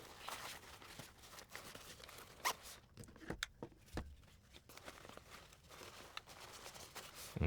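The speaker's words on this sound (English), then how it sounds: "so zip that up" A tomtoc T33/T35 sling backpack is zipped shut, giving a quick, close rasping zipper pull among soft fabric rustles and handling noises, fairly quiet overall.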